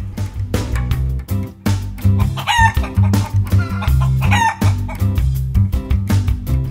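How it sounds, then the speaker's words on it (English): A Fisher Price Little People toy chicken plays loud electronic clucking and rooster crowing over a bouncy repeating music loop, twice sounding a cock-a-doodle-doo, with no voices. "Chicken."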